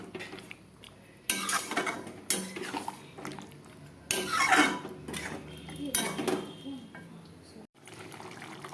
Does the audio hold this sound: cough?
no